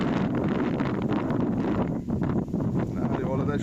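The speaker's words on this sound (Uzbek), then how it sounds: "Shamolli to'dasi bo'lyapti." A strong wind and dust storm sweeps past outdoors near a canal, roaring and buffeting the microphone continuously with heavy low rumbling gusts.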